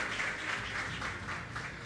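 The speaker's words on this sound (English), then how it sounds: "Big round of applause one more time for the #1 FBOs in the Forever World." An event audience applauds top achievers in Forever Living Products, with steady, fairly faint crowd clapping heard at a distance and no clear speech.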